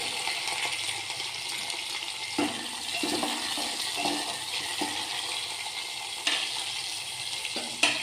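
Crushed garlic, coriander and onion go into a hot pan for homemade rasam, raising a steady close sizzle with several brief bursts as pieces drop in; no one speaks.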